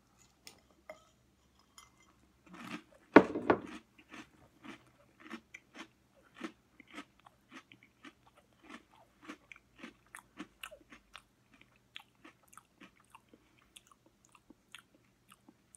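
Close, quiet crunching of Monster Cereals with marshmallows, small repeated bites and chews in a steady irregular rhythm, with one louder clink near the start and no talk.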